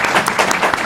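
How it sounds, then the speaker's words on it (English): An audience applauding a panel at a climate change discussion event, with dense, loud, close clapping throughout a brief burst. "Let's give a round of applause to the panel."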